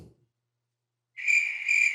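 A cricket chirping effect starts abruptly after a moment of silence, a steady high-pitched trill that carries on loud and close with no talk over it.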